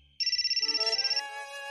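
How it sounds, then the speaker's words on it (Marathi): A mobile phone ringtone sounds loud and close: a rapid, evenly pulsing electronic trill that gives way to a sustained melodic chime, with no talk over it. "आला फोन आला."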